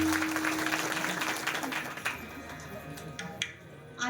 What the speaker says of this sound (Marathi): एकदा सिस्टीम वाल्या दादांसाठी टाळ्या होत्या